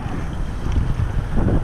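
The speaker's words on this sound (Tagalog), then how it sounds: "Medyo maalon, malakas ang hangin." Strong wind buffets the microphone beside a creek in Dubai, a loud continuous roar and rumble with gusty swells and no voices.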